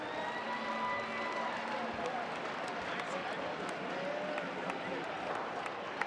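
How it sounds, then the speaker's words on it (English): Crowd in a gym applauding both teams after a state high school boys basketball championship final, steady clapping and cheering spread across the hall, with voices talking through it. "can we get a huge round of applause for both teams"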